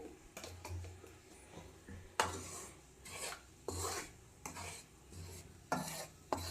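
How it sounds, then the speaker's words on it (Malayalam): A spoon stirring and scraping a halwa mixture with cardamom in a pan, giving repeated rasping strokes at close range with a few sharper scrapes, no talking. "ഇനി നമുക്കിത് ഇളക്കി കൊടുക്കാം."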